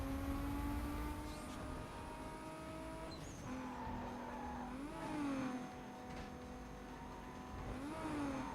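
A racing car in Need for Speed Most Wanted roars through its gears during a quick sprint race, the loud engine note climbing with each shift, with brief tire squeals and passing whooshes, no talking.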